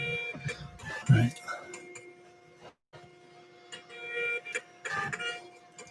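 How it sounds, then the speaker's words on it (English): A label printer runs during late-night order shipping, its steady mechanical ticking and whirring carrying through the whole stretch with a brief pause, while a person talks intermittently nearby. "So our printer is right here. Won't be able to see it, but you'll hear it."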